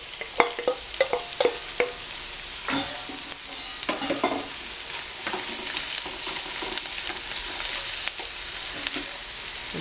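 Onion, garlic and green pepper sizzle in a pan for a chicken peperonata while a spoon stirs them, a steady close frying hiss broken by scraping clicks.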